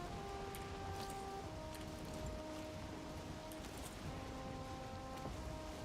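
Rain falls over an ocean at nightfall in a video game, a faint, steady wash of patter with soft tonal notes of music running underneath.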